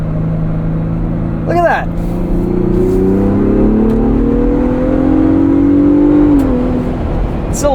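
A Ford Bronco Raptor accelerates onto a highway, its engine droning loud and close with a rising pitch through a long pull and a gear change near the end, while a voice speaks briefly over it.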